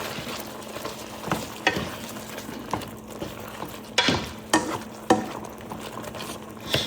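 Tomato and egg stir-fry with green peppers and cilantro sizzling in a wok, with steady frying hiss broken by several sharp scraping stirs of the spatula close by.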